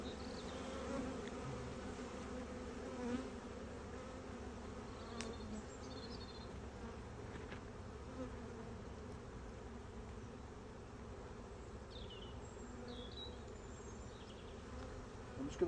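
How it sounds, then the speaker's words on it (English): Honeybees buzzing steadily around an open hive during an inspection as the queen's frame is lifted, a dense continuous drone with faint higher insect whines passing close by. "The bees do sometimes get a bit agitated when you pick up the frame with the queen on."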